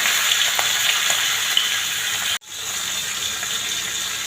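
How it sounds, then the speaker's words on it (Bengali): Sixty boal fish heads rubbed with turmeric and salt sizzle in hot oil, a steady, loud, close crackling hiss that cuts out for a moment before resuming. "এখন তেলের মধ্যে ভাজা করব।"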